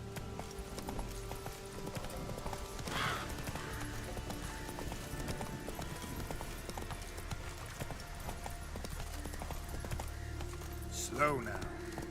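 Roach, a horse in The Witcher video game, gallops with steady clip-clop hoofbeats and a brief whinny near the end, mixed under game music and background talk.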